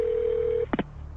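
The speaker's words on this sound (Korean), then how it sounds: "애플워치는 자동으로 긴급 서비스에 전화를 걸어서 도움을 요청한다고 하네요" Phone dialing sequence from an Apple Watch placing an automatic emergency call: a steady single tone held for over half a second, then two short, sharp dial beeps in quick succession, clear and close, with no speech.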